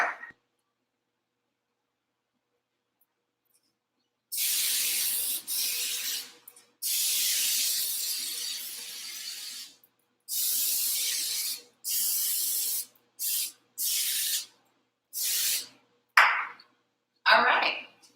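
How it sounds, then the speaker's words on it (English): Nonstick spray hisses from a can onto a cake pan held over a kitchen sink, in a series of short close bursts separated by brief pauses. "I like to spray it over the sink because it gets everywhere."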